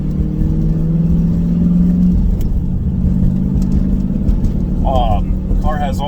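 A 1983 Pontiac Firebird SE with a 5.7-litre LS1 V8 idles steadily while warming up, a loud, close, continuous engine drone with a faint higher whine late on.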